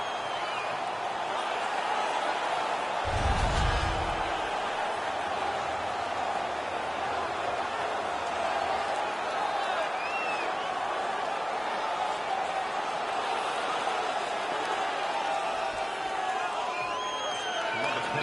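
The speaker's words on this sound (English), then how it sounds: "The crowd is so pumped right now." Hockey arena crowd in the video game NHL 18, a broad steady roar of cheering that holds loud and constant throughout, with a brief low thump early on and no clear speech over it.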